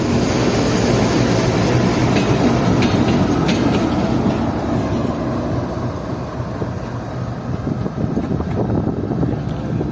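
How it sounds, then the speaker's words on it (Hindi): A GU40 diesel locomotive, number 9036, moves along the track to lead the Khyber Mail, its loud steady rumble and rail noise continuous with occasional clicks and no talk. "ये GU40 9036 जा रहा है हमारी ट्रेन की लीड पर लगने के लिए"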